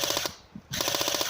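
Rapid automatic gunfire in a video game, a fast loud burst of shots that stops briefly and then resumes in the same steady rhythm, with no talking.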